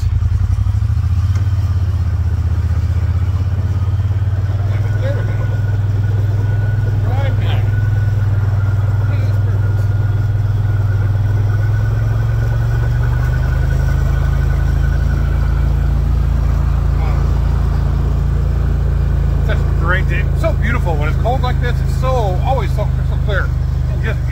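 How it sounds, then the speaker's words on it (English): A vehicle backs a trailer into a shop on a homestead at thirty below. Its engine gives a loud, steady low rumble throughout, with light clatter and what may be a voice toward the end. "Able to back the trailer into the shop here."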